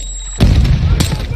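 Gunfire erupts in a military shooter video game during a compound raid, a loud sustained burst of shots and booms starting abruptly, with a second heavy report about a second in, over a dense noisy background.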